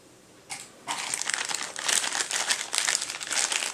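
A small plastic bag of mixed electronic parts, diodes among them, crinkles close up, starting with a brief rustle and then crackling steadily and loudly until the end, with no one speaking.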